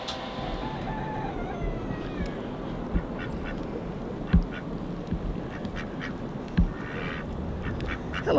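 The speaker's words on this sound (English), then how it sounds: "What you guys doing outside in the snow?" Ducks quack outdoors in the snow, a steady cluster of nasal calls against a constant background hiss, with a few louder nearby quacks standing out now and then.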